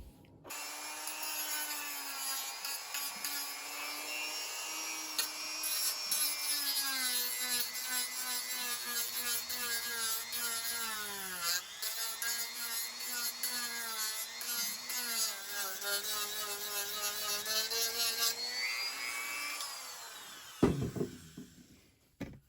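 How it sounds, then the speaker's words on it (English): A Dremel rotary tool trims a part during a Mac 512Ke restoration, giving a steady, close, high-pitched whine that wavers slightly in pitch as it bites, running for about twenty seconds before cutting off with a brief clatter. "I'm going to use a Dremel tool to work on this one"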